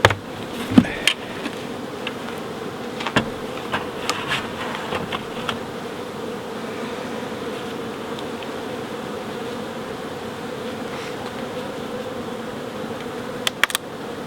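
A honeybee colony in an opened hive gives a steady, dense buzzing throughout, with occasional clicks and knocks from handling the hive, and no voices.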